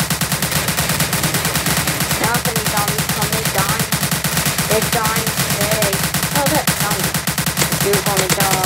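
Rapid automatic gunfire from a Roblox zombie survival game, with dense, continuous bursts of shots filling the whole stretch at an even, loud level.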